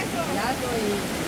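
Rushing river water flowing steadily and close, a broad continuous wash, with a voice and other talk over it.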